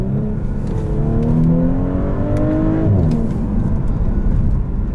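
A 2018 sports sedan engine, either an Infiniti Q50 or an Audi S4, accelerating in dynamic mode, a loud, smooth rising engine note climbing steadily through gears from inside the cabin.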